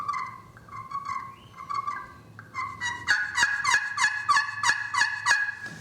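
Maple striker drawn across an aluminum turkey call, producing loud, close, raspy turkey yelps: a few softer strokes, then a quick, steady run of sharp yelps with no talking.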